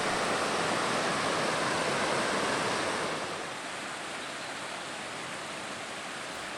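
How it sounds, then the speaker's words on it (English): The infant River Dove flows through a limestone dale near Hartington in the Peak District, a steady broad wash of moving water that eases to a softer level halfway through. "the infant River Dove flows into the first of a series of spectacular limestone dales"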